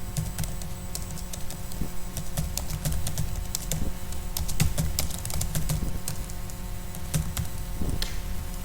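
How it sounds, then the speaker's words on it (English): Quick, irregular clicks of keys on a computer keyboard as quotation text is typed, a steady run of close, light taps with brief pauses over a quiet background hum. "So I'll type in some quotation text here."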